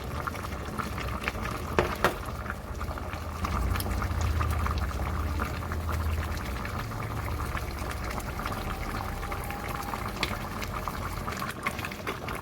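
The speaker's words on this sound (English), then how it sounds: "So here is the main ingredient, the palm nut extract. I'll be adding it to the meat now." Palm nut extract for Ofe Akwu (banga stew) is poured into meat in a pot, giving a steady liquid pour and bubbling that runs through the whole stretch, with a few sharp clinks early on and no talk.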